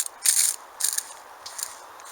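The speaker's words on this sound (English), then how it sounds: "And here we go, a nice fine misting spray." Trigger spray bottle misting a bicarb and milk mixture onto a tree's leaves: three or four quick hissing spritzes, close and fairly faint, each burst short with brief gaps between, no talking.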